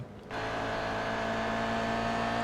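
Toyota GR86 race cars in a track race, engine roar swelling in quickly after a brief quiet start, then a sustained loud, droning engine note as the cars run past, no talking.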